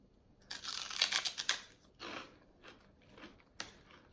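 Regular pork rinds crunched and chewed close up: a dense burst of crisp bites, then several softer, spaced chews, and one last sharp crunch near the end, with no talking.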